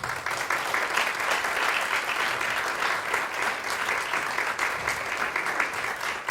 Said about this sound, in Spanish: al doctor Miguel Ángel García Gómez, a quien le pido a ustedes que le den un aplauso.